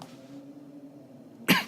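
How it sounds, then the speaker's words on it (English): A single sharp cough bursts out near the end after a stretch of quiet low room hum, loud and close. "Also, I'm still coughing."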